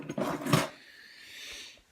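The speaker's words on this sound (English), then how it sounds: "if you open this drawer here" A drawer in an equipment kit slides open with a short, close scraping rub lasting under a second, followed by a faint low hum of quiet.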